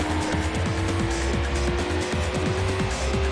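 A Lamborghini Murcielago in the PS2 racing game Need for Speed Hot Pursuit 2 drones with a loud, continuous synthetic engine note, and tire squeal and skidding noises overlap the revs.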